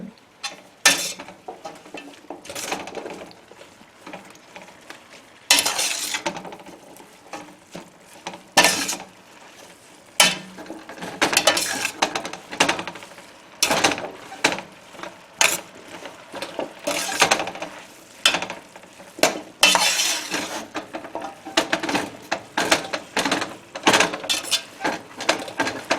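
Smoky collard greens and chickpeas are stirred in a pan on the stove, with a spoon scraping and clanking against the metal in irregular bursts, close and fairly loud.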